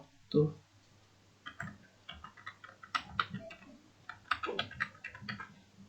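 Computer keyboard keys clatter in short irregular bursts while JavaScript code is typed, close and fairly quiet, with brief pauses between runs of keystrokes.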